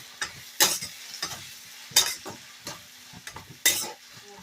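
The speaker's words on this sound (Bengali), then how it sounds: "এটা দিয়ে দেবো পেঁয়াজ, একটু ভালো করে আগে ভেজে নেব।" Onions frying in oil with cardamom, cinnamon and cloves for an echor (young jackfruit) curry, a spatula scraping and stirring the pan in about three sharp bursts over a quiet background sizzle.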